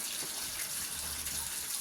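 Tap water runs steadily into a kitchen sink as raw chicken is rinsed before oven cooking, a faint, even gushing with no talk over it.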